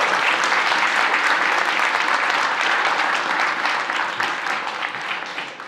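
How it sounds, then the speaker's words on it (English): Conference audience bursts into loud, dense applause at a tech product unveiling, a thick, even wash of clapping that holds steady and eases off slightly near the end. "I think it's worth the clap."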